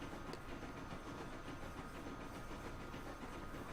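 A Pacific steam locomotive runs in Transport Fever, giving a steady, faint rumble with hiss and rhythmic rail clatter that stays even and continuous throughout, with no voices.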